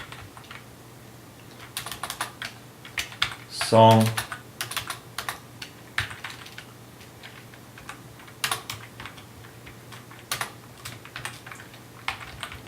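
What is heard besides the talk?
typing code on computer keyboard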